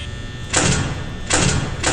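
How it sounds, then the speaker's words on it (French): A door slams shut twice in the Five Nights at Freddy's video game, two loud broadband thuds a little under a second apart with a third starting at the end, over a steady low game hum. "Je ferme la porte."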